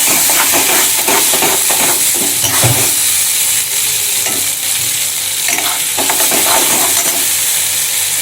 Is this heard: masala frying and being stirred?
yes